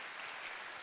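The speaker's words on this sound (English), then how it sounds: "can we just kind of have a shout out to the sponsors right now? Just a round of applause." Faint applause from a crowd, a soft steady patter of many hands clapping at a distance.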